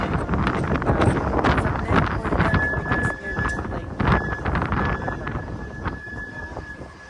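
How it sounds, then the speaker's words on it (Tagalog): Strong wind roars and buffets the microphone continuously atop Taiwan's tallest building, with gusty rumbling and a faint high squeal in the background. "Tapos dagdagan pa ng napakalakas na hangin."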